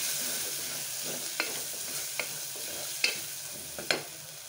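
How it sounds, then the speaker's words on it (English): Coriander, cumin and turmeric fry in a pan under a soft steady sizzle, with several sharp spoon scrapes and clinks as the spices are stirred; quiet, close, no talk. "Stir it well."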